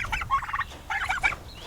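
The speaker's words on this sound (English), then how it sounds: "Oh, you can hear the turkeys in the background." Turkeys on a farm gobble in two quick bursts of warbling calls, somewhat distant and moderately loud, with no speech over them.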